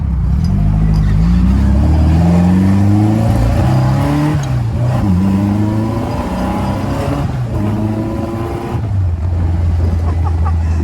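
A custom air-cooled engine of about 1800cc revs loud and close, its pitch rising and falling in repeated surges before settling into a steady idle.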